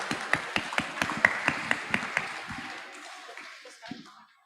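A small group claps for a presenter at a campus event, with distinct, evenly spaced claps at moderate distance that thin out and fade to silence near the end.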